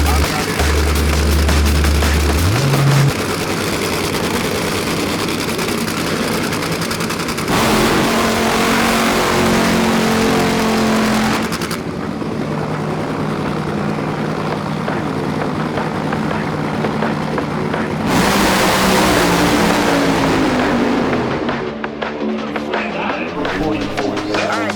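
A drag racing funny car makes its run at Houston, a loud, sustained engine roar that shifts in pitch as it pulls away and fades into the distance.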